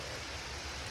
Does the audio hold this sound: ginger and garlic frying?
no